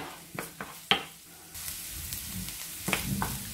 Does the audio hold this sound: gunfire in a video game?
no